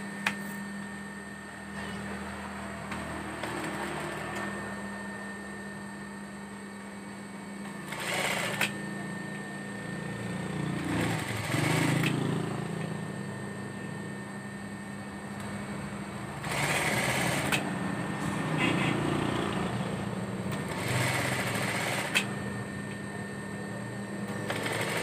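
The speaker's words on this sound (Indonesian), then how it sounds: "kita tinggal jahit bagian kantong yang tadi kena bongkar ya" Sewing machine stitching a jacket pocket with lining fabric, running in several separate bursts of a few seconds each, close and moderately loud over a steady background hum.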